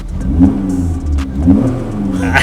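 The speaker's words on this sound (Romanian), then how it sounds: "Hai să turăm pentru el" A 40-year-old classic BMW engine is revved up close, swelling twice in short bursts over a rumbling idle, with no talk.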